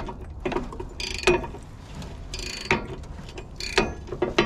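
A ratchet clicks as someone turns over the engine of a 1965 Jeep by hand, a Buick odd-fire Dauntless V6 that has sat for 30 years. The clicking comes in a few short bursts, close and fairly clear, with brief pauses between pulls.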